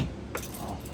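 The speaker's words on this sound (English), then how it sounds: "Here are my keys." A ring of fire alarm panel keys jangles close by in a brief metallic rattle with a sharper shake near the middle, and no one speaks.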